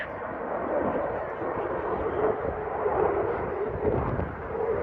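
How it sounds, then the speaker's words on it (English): A jet aircraft with afterburners at the Teesside air show roars as a broad, sustained rumble, loud and continuous with slight swells, with no distinct voices over it. "And afterburners mean jet noise, the sound of freedom."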